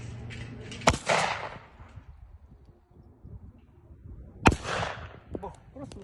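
Two sharp, loud gunshots fired at a target on a shooting range, several seconds apart, each with a brief echoing tail and faint outdoor background between them.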